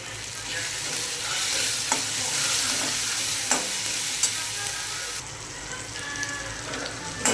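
Turmeric and salt stirred into whole masoor lentils in a hot pan, a continuous close sizzle with occasional spoon scrapes and clinks against the pan.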